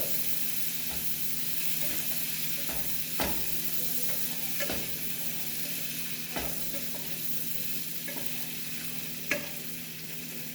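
Pepper and garlic fry in a pan with a steady, moderate sizzle, broken by a few sharp spoon clinks against the pan spaced several seconds apart.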